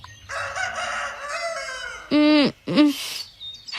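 A rooster crows loudly nearby in two strong bursts, preceded by a fainter, stretched crowing call from another bird.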